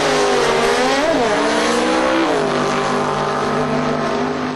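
A Maztech RX3 race car powers through a drag run, its engine note climbing and shifting in loud sweeping harmonics, close and continuous with no talk over it.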